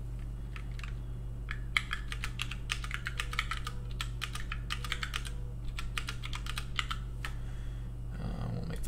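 Computer keyboard typing, quick bursts of crisp key clicks in irregular clusters over a steady low hum, fairly quiet and close.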